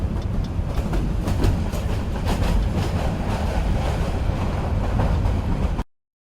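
A nine-coach train running on rails, giving a steady, loud rumbling roar with rhythmic clicking over track joints throughout before cutting off abruptly at the end.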